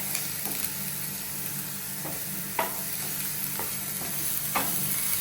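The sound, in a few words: sautéing onions in a pan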